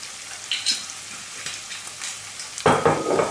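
Sausages frying in a pan as white wine is poured in, a steady soft sizzle with scattered pops that surges into a louder hiss near the end.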